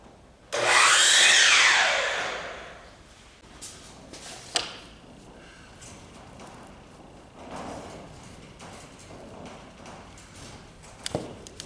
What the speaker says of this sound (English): I'll go over to chop saw and cut this one square